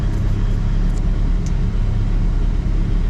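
A boosted, turbocharged Toyota MR-S sits at idle, a steady low rumble with a soft hiss on top and no talking over it.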